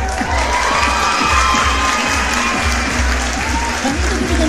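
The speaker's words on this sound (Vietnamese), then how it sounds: "xin mời quý vị chúng ta sẽ cùng nổ một tràng pháo tay thật lớn để chúc hạnh phúc đi ạ" Wedding guests at a countryside ceremony break into loud, sustained applause with cheering and children's shouts mixed in, a dense close crowd sound filling the whole stretch.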